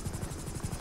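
A helicopter in the video game GTA 5 gives a steady, fast rotor thumping at close range with no talk over it.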